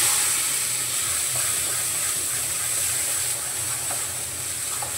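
Ground spice paste sizzles in hot oil with turmeric in a kadhai, a steady close hiss that fills the clip without a break and fades slightly toward the end, with no voices over it.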